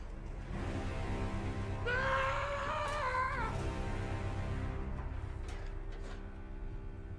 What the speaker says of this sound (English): You know what that scream sounded like?